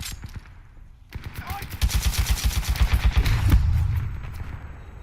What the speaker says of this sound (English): it's like a machine gun shooting rockets